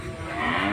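Cattle at a village livestock market in Betka, Tongibari, Munshiganj, with a cow lowing in a sustained, fairly loud moo that swells slightly toward the end, with no talk over it.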